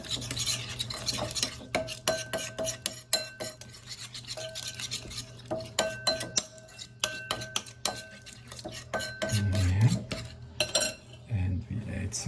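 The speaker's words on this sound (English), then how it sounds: "It's very strong vinegar, so we don't need too much. Then we stir it nicely." Strong vinegar being stirred in a cooking pot, a quick run of clinking, scraping spoon strokes against the metal, close and rhythmic, with brief talk at times.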